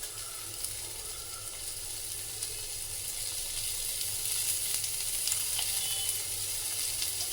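Paneer fries in a pan with a steady, close sizzle that holds evenly throughout, with faint crackles and light stirring scrapes and no voices.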